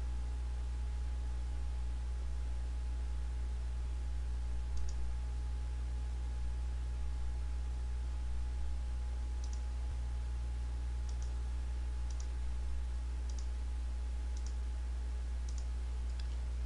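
A computer mouse clicks faintly in sparse single clicks, roughly eight of them spread over the later part, while the magnetic lasso tool is used in Photoshop CS4, over a constant low electrical hum.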